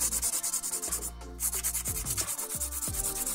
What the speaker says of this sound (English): I'm going to hand file some of this acrylic down, just touching the acrylic at the minute.